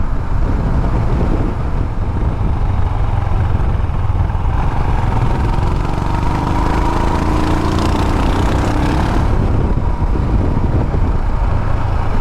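A 2020 Royal Enfield Himalayan motorcycle being ridden over a bumpy road surface, its engine droning steadily and loud throughout with constant wind rush, no talking over it.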